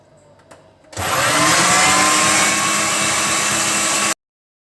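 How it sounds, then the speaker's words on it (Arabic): An electric meat grinder runs loud and close, mincing meat with freekeh and vegetables; it starts abruptly after a few quiet knocks, holds a steady harsh motor whir for about three seconds, then cuts off to silence. "وهنبدأ نشغل معانا المفرمة"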